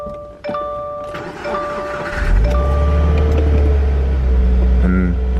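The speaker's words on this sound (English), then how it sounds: "gonna let you guys hear the cold start." Subaru WRX, completely stock, cold-starting: a starter whir and chime tones give way to an engine catching and settling into a steady, loud, close low rumble at fast idle.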